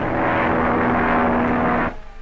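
Airplane engine drone in a radio drama, a loud steady roar with a constant hum that holds for about two seconds, then drops away abruptly to quiet.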